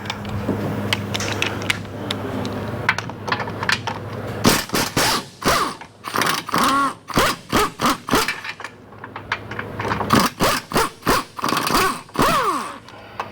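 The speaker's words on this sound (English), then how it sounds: "we're gonna pop that bolt out right there. That is a 17 millimeter." A 17 mm bolt being worked out of the lower control arm on a Mazda CX-7. Soft creaking at first, then a long run of quick ratcheting clicks in bursts, close and fairly loud, with no talk.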